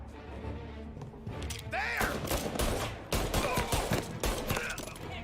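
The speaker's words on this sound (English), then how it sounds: "Someone has a full-on machine gun over there." Video game machine gun fire sounds as a rapid series of sharp, fairly faint bursts and thuds in a firefight. The shots come in clusters over a busy, low background.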